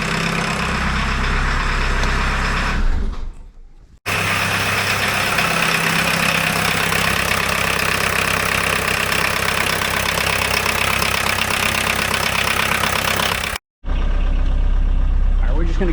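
A Volkswagen MK1 Rabbit engine idles steadily at close range right after its first start, with a small leaky injector, running loud and continuous with two brief cutouts near four and fourteen seconds; voices are heard.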